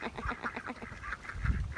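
Several happy farm ducks quack in a rapid, chattering series, fairly faint and close, with a louder low honk-like call near the end.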